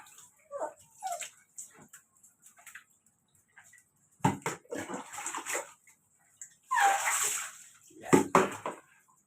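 Running water splashes in bursts as a dog is bathed, with short whimpers and yelps between the washes.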